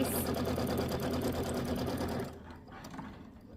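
A sewing machine tacks fabric in place on a mini quilt block, running in a fast steady mechanical chatter for about two seconds before stopping abruptly, leaving faint room sound.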